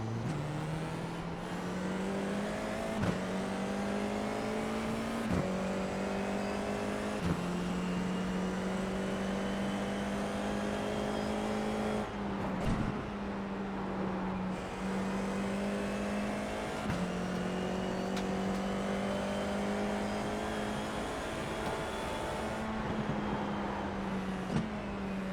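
An FIA Formula 4 race car drives at speed around Summit Point, its engine droning steadily and loud from on board, with the pitch dipping and climbing through repeated shifts and corners, no voices over it.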